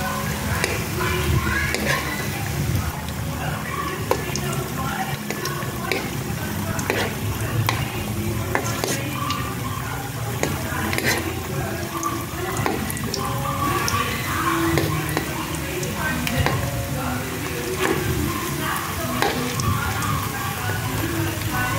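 Cheese sticks and lumpia fry in hot oil with a constant dense sizzle and bubbling crackle, close by, punctuated by frequent clicks and taps of a utensil, with occasional faint voices in the background.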